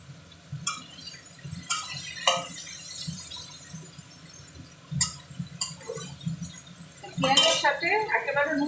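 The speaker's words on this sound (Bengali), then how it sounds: "এবার আমি পেঁয়াজ কুচানোগুলো দিয়ে দিচ্ছি।" Chopped onions tipped into a pan and stirred, with quiet clinks and scrapes of a utensil against cookware in irregular bursts, close but faint with low background hum.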